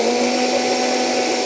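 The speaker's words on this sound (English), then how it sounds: "we'll give it one more hard blend" A blender runs hard at high speed, whirring a sesame sauce with about a cup and a half of oil into a steady, loud, unbroken motor drone with no voices.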